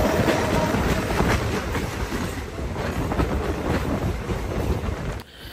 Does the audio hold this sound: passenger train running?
yes